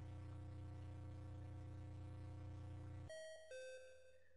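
A doorbell-like ding-dong chime from the Game Boy game Pokémon Yellow plays over a steady electronic hum, then two bright tones sound in quick succession, high then lower, ringing out briefly and fading.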